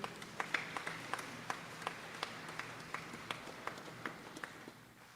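A church congregation at a Christmas cantata claps in praise, a faint, distant, fairly even patter of scattered sharp claps over a low room hum.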